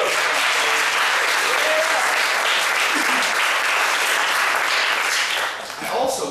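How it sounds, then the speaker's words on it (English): Audience applause for open mic poets at a poetry event, a dense, steady wash of clapping that holds loud for about five seconds, then thins and fades near the end, with a few voices calling out underneath. "give another round of applause for them"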